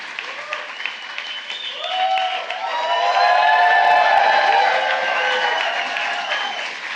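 Audience applause at a White House Pride celebration, a dense, sustained clapping that swells to full strength midway and holds steady for several seconds, with some cheering mixed in.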